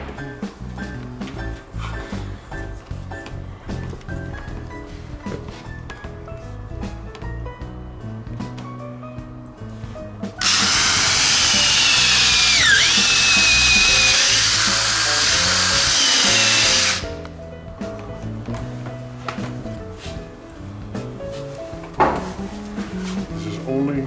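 A power drill drives a screw into a wooden shutter plank on a boat restoration, a loud whirring burst lasting about six seconds, preceded and followed by clattering work sounds and people talking nearby.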